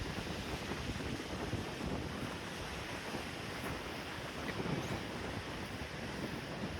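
Strong wind buffets the microphone at a Cornish beach by a cove, a steady loud roar over crashing surf with gusts and no speech.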